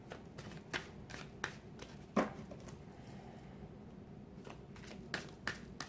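Tarot cards being shuffled up close, with quiet, soft riffles and slaps arriving in a loose, uneven rhythm.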